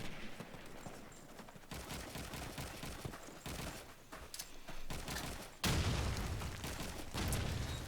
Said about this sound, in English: Couple of grenades coming in from the Warlords.